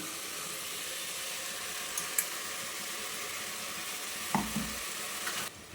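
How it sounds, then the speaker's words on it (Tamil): Ground masala paste for Chettinad kara kuzhambu hits a hot pan, giving a steady, close sizzle and hiss with a few soft clinks and a brief stir near the end. "இப்போ வந்து நம்ம இந்த அரைச்சி வச்சு இந்த மசாலாவை ஊற்றிடலாம்"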